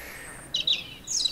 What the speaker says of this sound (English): The birds are chirping